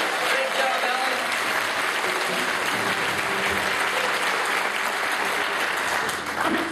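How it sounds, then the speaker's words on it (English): Audience applause for a band at a comedy show, a dense, steady wash of clapping that fills the room from start to finish at a constant loud level, tailing off only slightly at the very end. "I want you to give a round of applause for this band"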